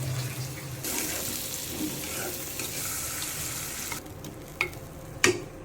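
Noodles tossed with onion, green chilies, vegetables and spices sizzle steadily in a pan while being stirred, with a few sharp utensil clanks against the pan near the end.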